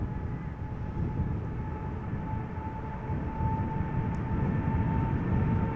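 A nine-year-old Boeing 777 freighter at Amsterdam Schiphol Airport produces a steady, loud engine roar, broad and low with a constant whine above it, holding evenly throughout.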